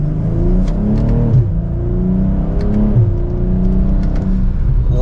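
A BMW M240i xDrive pulls hard from second gear, its engine note climbing loud and close, then dropping sharply at two quick automatic upshifts before rising again.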